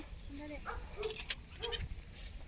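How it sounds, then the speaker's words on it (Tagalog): Pregnant goats bleat on a farm, a few close, wavering calls overlapping one another against light background noise, with a brief sharp click partway through. "Ang mga kambing."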